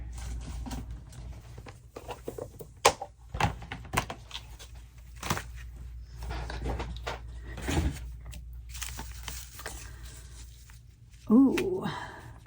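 A drawer of paper-craft embellishments is rummaged through during journal making: scattered papery rustles, slides and knocks come in bursts over several seconds, and a person speaks intermittently over them.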